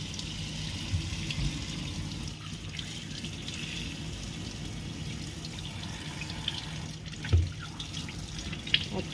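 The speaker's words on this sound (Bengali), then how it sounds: "একদম পরিষ্কার করে আমি ধুয়ে নিচ্ছি।" Tap water runs continuously into a sink as a pomfret fish is rinsed clean, with a steady splashing hiss and occasional small knocks of handling.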